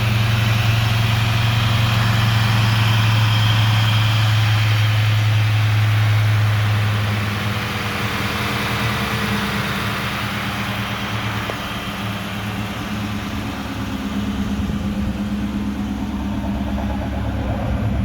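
A 1996 Mustang GT convertible fitted with a swapped-in Cobra engine, 105,000 miles, idles steadily with a deep, loud exhaust drone; the low rumble eases slightly after several seconds and holds even to the end.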